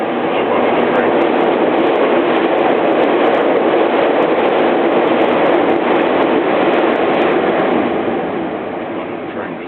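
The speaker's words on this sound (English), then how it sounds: "That's a train." A train rumbles past loudly and close, a dense continuous roar that stays strong for several seconds before easing off at the end.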